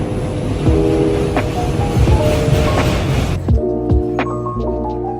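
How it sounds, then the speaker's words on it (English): A loud New York City subway train rumbles and screeches close by, with tonal whining and clattering, then the roar eases into lower mechanical hum. "the subway."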